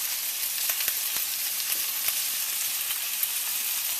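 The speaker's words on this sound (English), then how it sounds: "Start roasting those vegetables off." Vegetables glazed with a teaspoon of honey roast in a hot pan, giving off a steady, close sizzle with scattered small pops and crackles and no voices.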